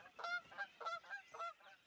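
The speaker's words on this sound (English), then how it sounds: "Canada geese." Canada geese honking in a cartoon spring scene, five or six nasal calls in a quick uneven rhythm, clear and close with nothing else over them.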